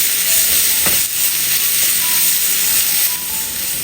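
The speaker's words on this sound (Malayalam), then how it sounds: "ഇനി ഇതിലേക്ക് നമ്മൾ ചെറിയ ഉള്ളിയും വെളുത്തുള്ളിയും കൂടെ ചതച്ച് വെച്ചത് ചേർത്ത് കൊടുത്ത് ഒരു 40 സെക്കൻഡ് ഒന്ന് ഇളക്കി കൊടുക്കാം" Crushed shallots and garlic sautéing with onions in a hot pan give a loud, dense, continuous sizzle, close up, with faint scraping of stirring underneath and no talking.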